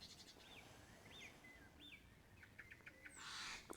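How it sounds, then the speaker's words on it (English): Birds chirping in the distance, a few thin sweeping calls and quick tweets over a soft outdoor hiss, ending with a brief louder rustle. "Where are the birds? You can hear them. The birds are in the trees."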